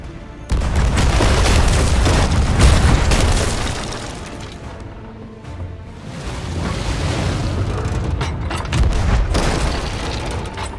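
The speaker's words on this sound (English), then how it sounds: "The cannons stand ready!" Cannons firing aboard a pirate ship in Sea of Thieves, heavy booming blasts rolling one into another, loud and dense throughout with rumbling low end and faint surf underneath.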